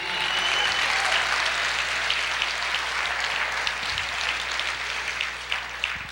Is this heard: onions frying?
no